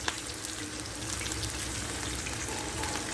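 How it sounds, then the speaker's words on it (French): Sliced bell pepper and onions fry in a pan for a paella, giving a steady close sizzle with faint crackles and a few light clinks throughout, no talking. "j'ai rajouté le poivron, les oignons."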